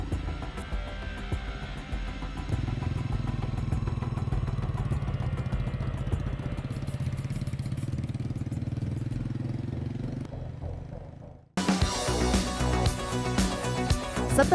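A motorcycle engine chugs steadily on a steep mountain trail on Gunung Cikuray, a close, constant mid-pitched drone with clatter, cutting out briefly before a rougher, louder revving returns.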